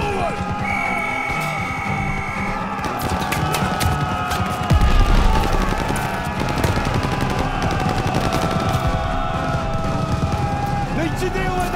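Machine gun fire in the Call of Duty: Vanguard video game, Operation Tonga mission: dense, continuous battlefield gunfire and clatter at steady loudness across the whole stretch, with shouting voices mixed in.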